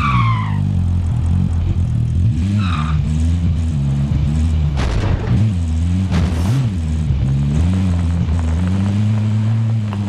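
A vehicle engine in Call of Duty: Warzone drives steadily and loud, its pitch rising and falling with throttle changes, with a couple of brief tonal alerts and short bumps or impacts over the constant drone.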